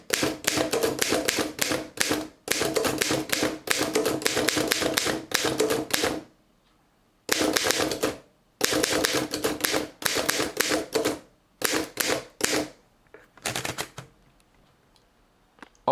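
A 1911 Underwood 5 typewriter clatters under rapid typing, dense bursts of key strikes broken by short pauses, close and loud with no talk.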